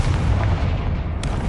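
A Confringo blasting spell explodes in a Harry Potter video game, a loud, dense low boom that fills the whole moment, followed by a short crackling burst near the end.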